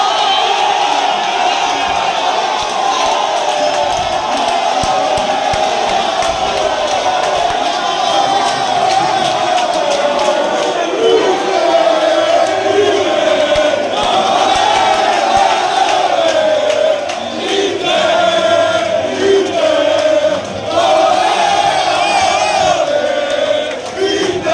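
Inter Club Favara fans celebrating an Inter victory, a loud crowd cheering, chanting and whooping continuously in a sustained roar.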